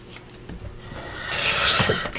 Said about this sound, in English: So I'm going to get that in my trimmer